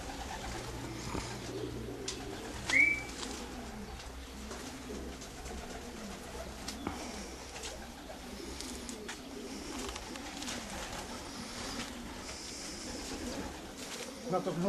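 Racing pigeons coo softly at their home loft as the birds return from a race, a steady low murmur with occasional wingbeats and flutters, while a few people talk quietly nearby.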